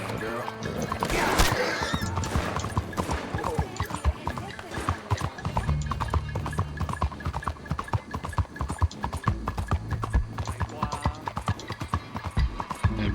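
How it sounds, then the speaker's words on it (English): Hooves of a horse clip-clop in Red Dead Redemption 2, a rapid, steady gallop of close, loud thuds running throughout amid background game noise and talk. "Here comes the horse."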